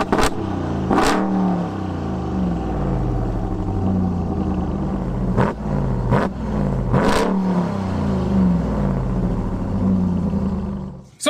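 A 2021 Ram TRX truck engine idles heard from outside the vehicle, a deep, steady, loud rumble with a few sharp revs punching through before it cuts off.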